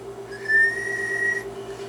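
A steady whistled tone, held for just over a second, goes into the microphone of a Mohawk 10 model 5A 10-meter linear amplifier during an audio test, over a constant low hum.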